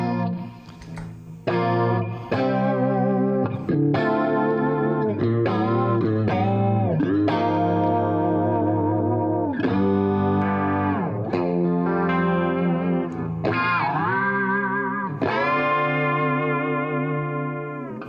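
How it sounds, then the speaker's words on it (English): A John McGuire Valley Pro electric guitar plays rhythm chords through its humbucker in full mode at full gain, thick and distorted with a chorus-like shimmer. Sustained chords change steadily, loud and close, with no talking. "full-on gain sound with the, you know, full mode humbucker"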